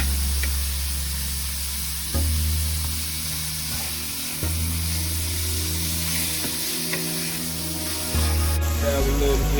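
Beef sizzles and fries loudly in a hot pan, a continuous crackling hiss with occasional stirring scrapes and shifts, close and alone without talk.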